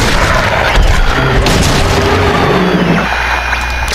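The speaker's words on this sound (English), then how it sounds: "I have to use the hunting rifle right about now." Hunting rifle fire in the Silent Hill 2 video game, heavy booming blasts buried in a loud, dense wash of game sound that continues throughout.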